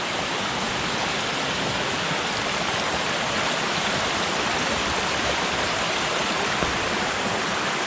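Bennett Cove Falls in Pisgah National Forest pours in a steady, full roar of falling water, a close, unbroken wash of sound with no voices.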